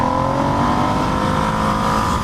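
A Ducati Streetfighter V2S naked motorcycle's twin engine drones steadily and loudly while riding, a continuous close-up hum with steady harmonic tones and no break throughout.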